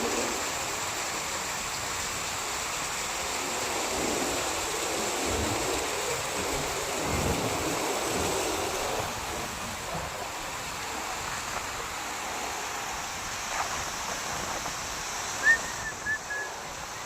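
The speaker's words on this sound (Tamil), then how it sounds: "மலைத்தொடர்லேருந்து வர தண்ணி எல்லாம்" River water flowing down from a mountain range rushes in a steady, continuous wash that stays even for the whole stretch, with a few faint splashes near the end.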